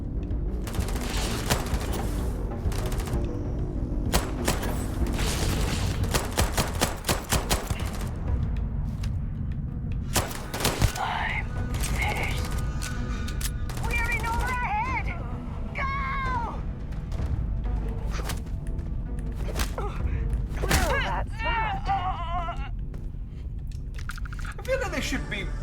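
Rapid bursts of gunfire in the space game Starfield, dense crackling volleys in the first half, then sparser shots with voices talking over them.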